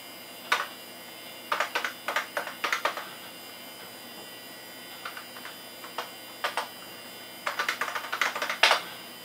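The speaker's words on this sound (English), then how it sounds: "Type in your new password, and away you go." A password is typed on a computer keyboard in several quick bursts of close, crisp key clicks separated by short pauses, with no speech.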